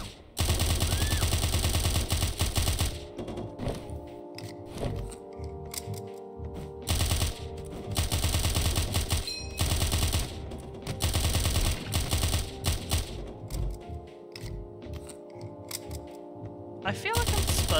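Rapid bursts of Tommy gun fire in the 1920s gangster game Of Murder and Moonshine, loud and near, repeating in long chattering volleys with brief pauses between them.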